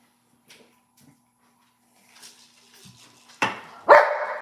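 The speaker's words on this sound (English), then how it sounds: "No. Don't bark." A dog barks indoors at home, two sharp, loud barks close together after a quiet stretch with faint household sounds.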